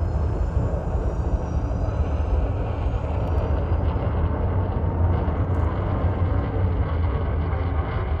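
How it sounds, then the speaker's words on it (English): Steady, low rumbling drone of spaceship thrusters in the space game Elite Dangerous, a continuous loud engine roar without pauses and with no talking. "I'm using vertical horizontal thrusters to keep altitude"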